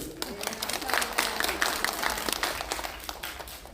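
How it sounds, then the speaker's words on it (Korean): Clapping from an audience at a political party staff training session, fairly quiet and uneven, with distinct individual claps in a continuous patter and faint voices underneath. "여러분 뭐 빨리 집에 가고 싶어서 박수를 계속 치는 거 아니에요?"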